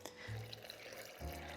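Hot water poured into a blender holding dates and cashews, a soft steady pouring stream in a kitchen, fairly quiet and close.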